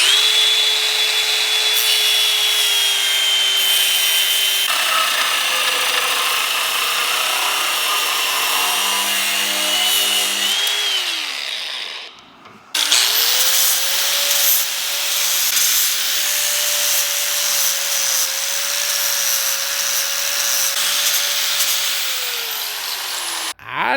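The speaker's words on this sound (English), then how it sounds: "I think I'm just going to play it safe and use a cutoff disc" A cutoff disc grinds through hard plastic with a block of steel inside it, a loud continuous abrasive whine in two long passes separated by a brief pause near the middle.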